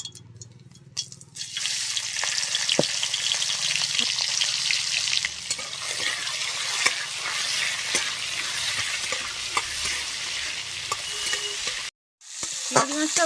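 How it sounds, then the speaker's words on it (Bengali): Shrimp sizzle and crackle steadily in hot oil in a pan, a loud continuous frying hiss with occasional clicks of a spatula stirring, ending in a brief gap before the sizzle resumes. "একটু চিংড়ি মাছটা দিয়ে দেবো এখন তেলের মধ্যে"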